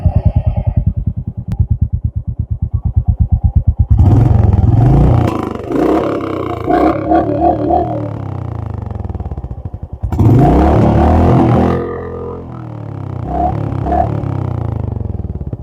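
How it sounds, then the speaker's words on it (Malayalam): A Royal Enfield Meteor 350 motorcycle idles close by with a slow, even thumping exhaust beat, then revs sharply twice, each rev climbing and falling back toward a loping idle. "ഇതിൻ്റെ എക്സോസ് നോട്ടാണ്, ശരിക്കും അടിപൊളിയാണ്"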